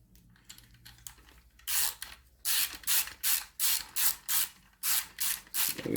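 A ratchet wrench tightens a bolt on a car during brake pressure sensor work: close, loud rhythmic clicking bursts with regular strokes after a quieter start.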